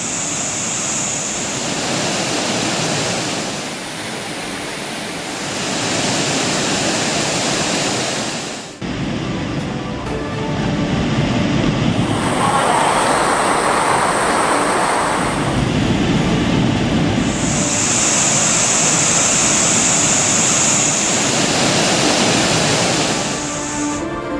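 Courtallam waterfalls in flood, a heavy continuous roar of rushing water that swells and eases over time with no voices.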